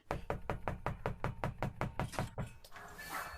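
Rapid, even knocking raps on a door come about a dozen times in a steady rhythm, close and distinct, and then trail off into a softer rustle.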